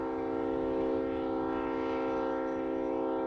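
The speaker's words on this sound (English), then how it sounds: "This is the Tropicana juice train, loaded with orange juice." A Tropicana freight train hauling orange juice from Florida rumbles past up close, carrying a steady, loud tonal drone like a sustained horn that holds for several seconds without a break and with no voices.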